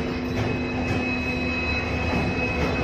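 Train pulling into a railway station platform, with a steady, close rumble of rolling railcars and faint tonal wheel whine running through the whole stretch.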